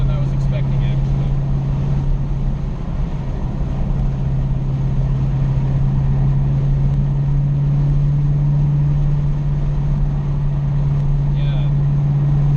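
A supercharged 2016 Dodge Challenger Hellcat with a six-speed manual, driven at full throttle, gives a loud, steady, deep engine drone with a faint supercharger whine, heard from inside the car with some talking.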